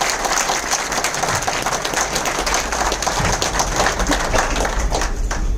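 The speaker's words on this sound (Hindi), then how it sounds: "तो एक बार जोरदार ताली में" Applause from an audience in an office training session in Delhi, a dense, steady wash of clapping filling the whole stretch at close range, with no talk over it.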